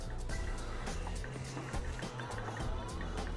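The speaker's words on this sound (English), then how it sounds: "we'll add a little bit of water just to get it to the consistency that I want" A little water splashes into a bowl of peanut dipping sauce for Vietnamese spring rolls, a soft, faint, steady pour with light clinks.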